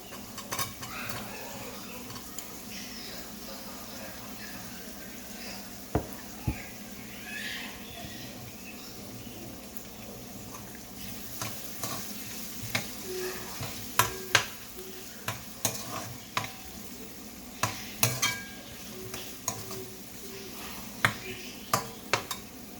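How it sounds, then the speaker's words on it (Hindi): Chicken fries in a pan for Thai style pasta, a low steady sizzle with louder stirring scrapes and utensil clicks against the pan, more frequent in the second half, with faint speech at times. "इसे 5 मिनट फ्राई कर लेंगे हम।"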